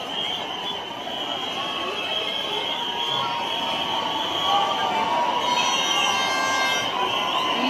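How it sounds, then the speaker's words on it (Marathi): A large crowd packs the street for the Lalbaugcha Raja procession on Anant Chaturthi, a steady dense roar with no breaks and a thin high tone running through it. "ही सगळी गर्दी लालबागच्या राजाची आहे."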